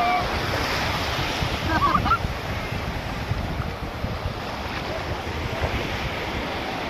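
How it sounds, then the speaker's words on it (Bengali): Continuous surf and wind at Bakkhali sea beach, a broad, loud, steady roar of waves with gusting wind buffeting the microphone throughout. "বকখালি সমুদ্র সৈকত"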